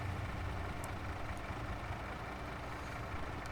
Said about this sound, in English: Of course we need the engine running.